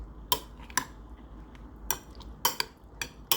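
A spoon stirring food in a bowl, giving sharp clinking scrapes of metal against the dish in an irregular rhythm, about eight distinct taps over a few seconds, close and fairly quiet with no talk.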